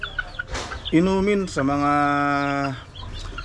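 Broodcock and brood hen clucking up close, a couple of drawn-out tonal clucks and short calls, with someone speaking briefly in the background.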